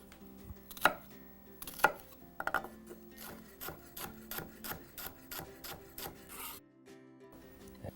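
A knife minces raw shallot on a cutting board in quick, uneven bursts that settle into a steady run of close, crisp chops before stopping abruptly.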